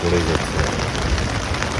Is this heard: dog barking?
no